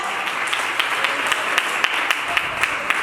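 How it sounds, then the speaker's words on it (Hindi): An audience claps for youth volunteers at an event, a fairly steady ripple of hand claps with scattered sharper individual claps standing out, sustained at moderate loudness for a few seconds. "इन वीरांगनाओं को ये जोरदार ताली तो बनती है"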